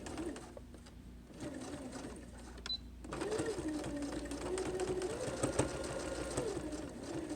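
A sewing machine stitches pleats into a fabric mask at narrow width, its motor whirring steadily and close up, quieter at first and then running louder and continuously from about three seconds on.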